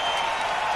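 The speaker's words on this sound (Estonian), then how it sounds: "Pole vaja plaksutada, pole vaja." Audience applause after a live singing performance, a steady dense wash of clapping filling the short moment, fairly close and even in level.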